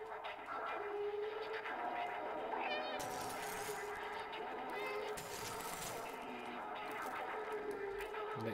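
A cat meows repeatedly in the video game Stray, several clear, plaintive calls over a busy game backdrop with crackling electrical noise bursts midway.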